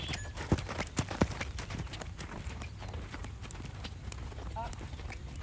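Hoofbeats of a gaited horse being asked to canter, a few sharp nearby thuds standing out over steady rumbling footfalls and background noise, with a voice heard briefly.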